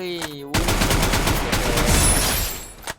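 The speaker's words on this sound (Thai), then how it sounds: "หลังมันยิงกันเริ่มเลยวะ" Sustained rapid gunfire from the battle royale game Free Fire, a dense loud burst of shots filling most of the stretch after a brief quiet opening, ending with one last sharp crack.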